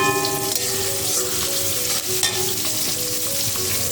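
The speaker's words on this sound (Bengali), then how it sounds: "প্রথমে দেখো পেঁয়াজ কুচি দিয়ে দিচ্ছি বেশ অনেকটা পরিমাণে" A generous amount of chopped onion fries in hot oil with a loud, steady sizzle and crackle, close and continuous throughout, with a few faint clinks beneath it.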